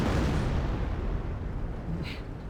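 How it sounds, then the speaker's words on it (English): An artillery barrage in Company of Heroes, a World War II strategy game, rolls as a continuous heavy rumble of overlapping explosions, loud and dense throughout with a brief sharper crack near the end. "the American player helps him out and launches an artillery barrage"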